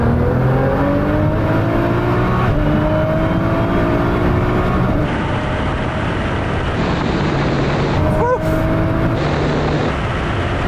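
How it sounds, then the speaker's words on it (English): A Nissan GT-R accelerates hard in third gear from a 50 mph roll-on drag race, its engine note climbing steadily in pitch under heavy wind noise, with brief voices over it. "Right, Sam, what we're going to do this time is 50 mile an hour third gear roll on"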